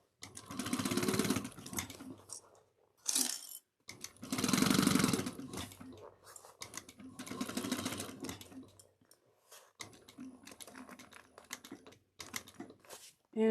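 A sewing machine stitches a cross-body bag in several running bursts separated by short pauses, its motor whirring steadily and close by, with one brief quiet voice in the gaps.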